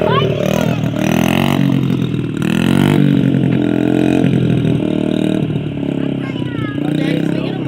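A small 50cc motorcycle runs steadily at close range for a first ride, its engine droning and rising in pitch with occasional clattering and wind rumble throughout.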